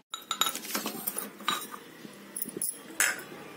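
A spoon stirs lemon juice with sugar and salt in a glass, producing quick, bright clinks against the glass in an irregular rhythm, close and fairly quiet, with no speech.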